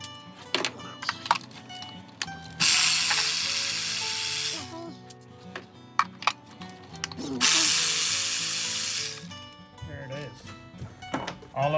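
A power tool spins out spark plugs on a 2015 Honda Accord, two long loud whirring bursts of several seconds each separated by clinking, ratcheting and handling noises at close range.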